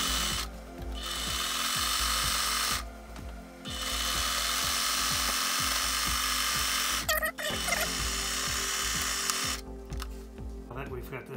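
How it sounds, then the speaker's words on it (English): Electric sewing machine running in steady bursts as it sews a zigzag stitch along a fabric edge for DIY van or RV cushions, its rapid needle chatter broken by short pauses, with handling noise between. "Because this machine has a zigzag stitch, I'm gonna go and put an extra part along the edge here to keep it from fraying."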